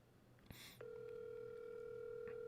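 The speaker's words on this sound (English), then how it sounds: "Make another phone call for y'all." A telephone line clicks once, then a steady electronic tone holds continuously to the end, clear and unbroken over faint background hiss.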